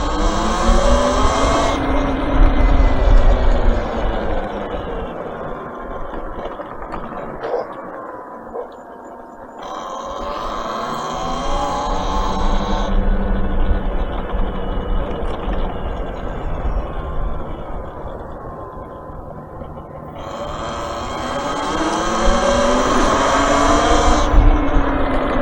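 Car on the move with a loose, flopping fender, a continuous engine and road roar that swells and eases in long waves, close and loud, with no talking.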